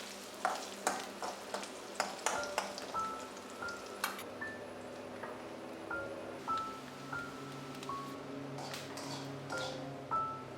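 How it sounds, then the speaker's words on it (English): Coconut pieces and curry leaves frying in hot oil for a chicken masala lunch, a steady close sizzle with repeated sharp stirring scrapes and light metallic pings throughout, no talking. "Meanwhile, frying some coconut pieces to add to the chicken."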